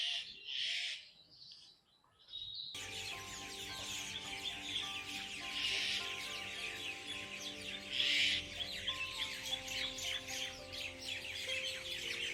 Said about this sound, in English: And some birds also searching food on the ground.